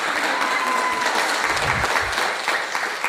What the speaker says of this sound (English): Clap for them, and then afterwards clap for me.